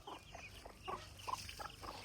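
Chickens and roosters running about near a sorghum field, giving soft, quick clucks scattered through a quiet outdoor background.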